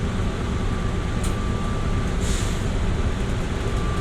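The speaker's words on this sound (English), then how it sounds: "This train is departing." An airport people-mover train pulls away, its steady broadband rumble and whir running continuously with a faint tonal hum. A couple of brief high hissing bursts sound, likely air brakes or doors, and no voices are heard.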